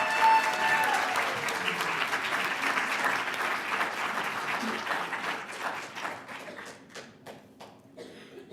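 Audience applause for a contestant brought to the stage at a business challenge, dense clapping at first that gradually thins into scattered individual claps as it fades out.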